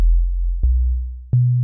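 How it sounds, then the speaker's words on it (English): Pure sine tones from a wavetable synth's default oscillator, a low steady hum that steps up in pitch twice across a short sequence of sustained notes, clean and alone. "By default, it's set to a sine wave."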